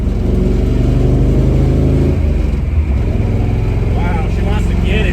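A 1970 Nova with a 383 stroker V8 roars close and loud, a rough, throbbing engine drone that swells and shifts pitch slightly as it revs.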